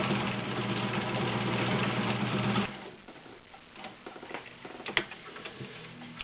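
A vintage Kenmore Model 1803 sewing machine runs fast, stitching zigzag through denim with a loud, steady mechanical whir, then stops, leaving only faint clicks and handling taps.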